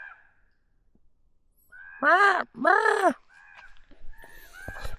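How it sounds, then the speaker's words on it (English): Crows outdoors giving two loud, harsh caws in quick succession, followed by fainter scattered calls and rustling in otherwise quiet surroundings. "I think those crows are arguing about something."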